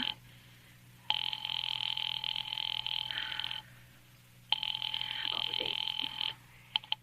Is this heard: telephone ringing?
yes